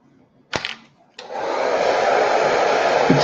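A hair dryer blowing onto painted parts of a Revell 1:18 Corvette scale model: a click, a brief pause, then a loud steady airy roar close to the microphone.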